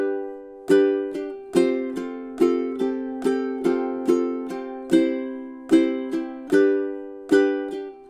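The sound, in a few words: ukulele strumming measures 18 and 19 of a song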